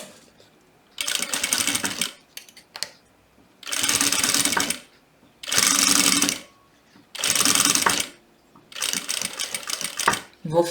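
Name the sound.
sewing machine backstitching a seam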